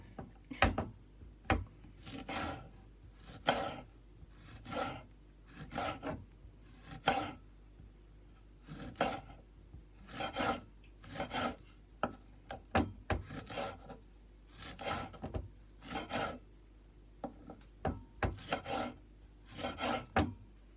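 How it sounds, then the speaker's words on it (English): A knife chops spring onion on a cutting board in a steady run of sharp, close taps, about two dozen strokes in quick bursts with short pauses between them, and no talking. "Chop off the end of the spring onion"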